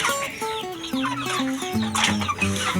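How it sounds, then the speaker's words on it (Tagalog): Shamo chickens cluck busily nearby at feeding time, several birds overlapping in quick, chattering calls with no one speaking. "Yan mga kamanok ko, nagutom sila yan mga kamanok."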